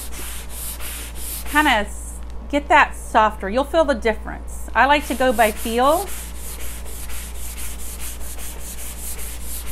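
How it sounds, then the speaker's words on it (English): Fine sandpaper rubbed by hand over a wooden charcuterie board, steady close scratchy strokes throughout, with a person talking over the middle part. "this is a fine sandpaper"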